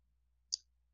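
A single sharp mouse click on the continue button in Cricut design software, brief and close, set against near silence.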